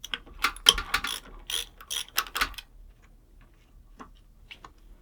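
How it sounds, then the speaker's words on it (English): An ARB twin air compressor motor spins with a rapid ratcheting, ticking mechanical rattle, loud and close for about two and a half seconds, then drops to near silence with a couple of faint clicks. "That motor is just spinning."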